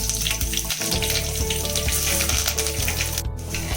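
Mustard seeds splutter and crackle in hot coconut oil in a pan while fish curry is being made, a close, dense and steady sizzle with rapid popping.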